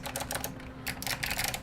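Typing on a mechanical keyboard with blue Alps switches, a rapid clatter of crisp, bright keystrokes in two bursts with a short pause between, close and clear.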